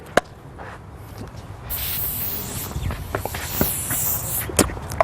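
Fatiguard fly spray hisses out of an aerosol can in a steady, airy spray lasting a few seconds, with scattered clicks and light footsteps around it.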